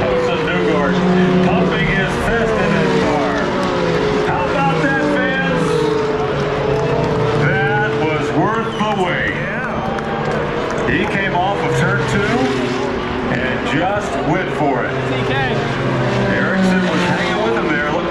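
IndyCar race cars roaring to the finish of the Indianapolis 500, loud sustained engine whine with passing pitch sweeps over a noisy crowd, with an excited commentator talking throughout.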